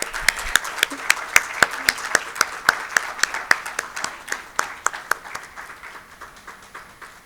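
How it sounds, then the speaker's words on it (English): Sparse audience clapping comes in distinct single claps that are spread out and uneven. The claps slowly thin and soften over the stretch. "Please give a huge round of applause."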